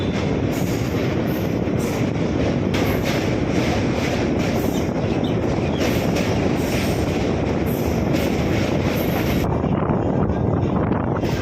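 Vibhuti Express 12333 pulling out of Pandit Deen Dayal Upadhyaya Junction, heard from on board as a steady, loud rumble of railcars with wheel squeal and rhythmic clatter throughout.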